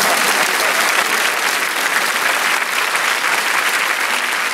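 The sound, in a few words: audience applause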